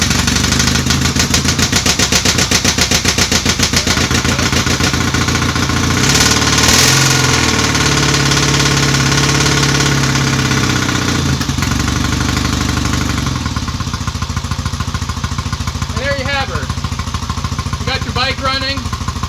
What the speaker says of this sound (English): Bike running, you're ready to go off down the road.